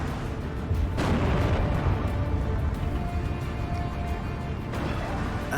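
A T-34E tank gun firing in the Steel Division 2 strategy game, a dense, continuous wash of booming cannon shots and distant artillery thumps with no pause, loud and rumbling throughout.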